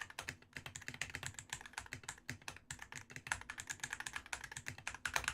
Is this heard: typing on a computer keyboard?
yes